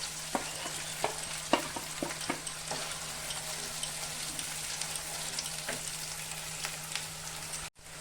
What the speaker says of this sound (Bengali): এখন আমি সরষা বাটা আর রসুন বাটাটা দিয়ে দেব।